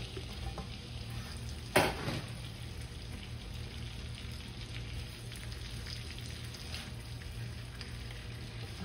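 Dates frying in about 50 grams of butter in a pan, a steady low sizzle and crackle running throughout with one brief louder stir or clatter near the start.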